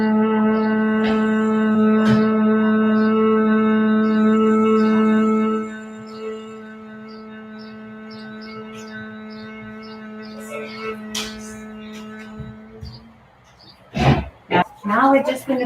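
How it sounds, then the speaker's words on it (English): Several people humming together with lips closed at the end of a live yoga class, a steady sustained tone lasting a few seconds, then fading into quieter breathing and a brief voice near the end. "keep our lips together and we make a humming sound where you feel the vibration in your whole face"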